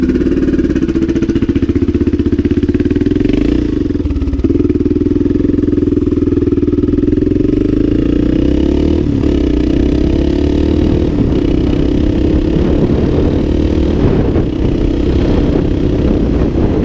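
A vintage Honda XL500 motorcycle engine runs close by, a loud, steady single-cylinder thump that dips briefly, then pulls on with rising revs as the bike rides off.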